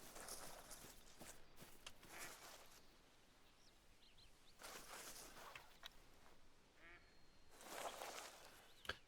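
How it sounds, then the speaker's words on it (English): A duck quacks in the hunting video game theHunter: Call of the Wild. The calls come in a few scattered bursts over rustling footsteps through undergrowth, fairly distant and soft. "I can hear the duck fucking quacking, so it's definitely here."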